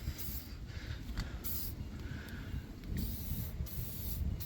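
3-in-One lubricant sprays onto the rubber seal of an RV slide-out, giving several short hissing bursts of varying length against a quiet outdoor background, close and fairly soft.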